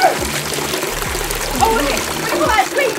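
Water splashes and sloshes from a bucket in a noisy, steady wash of sound lasting throughout, mixed with excited voices of people talking and shouting close by.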